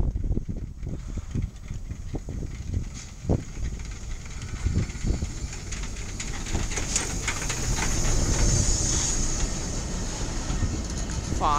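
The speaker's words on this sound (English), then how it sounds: "a steam train is coming in at road station" Steam locomotive SHM S-Loc 5 "Enkhuizen" arrives at Wognum-Nibbixwoud tram station with old ÖBB carriages, rumbling and clanking closer with wind noise and rising hiss.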